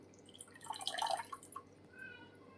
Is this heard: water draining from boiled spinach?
yes